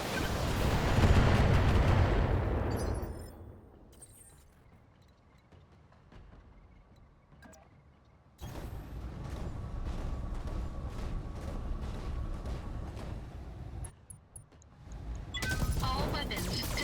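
Mech weapons fire in the Battletech video game, including medium lasers: heavy, booming bursts open the clip, then quieter stretches and renewed sustained loud firing later, with energy blasts and impacts layered together.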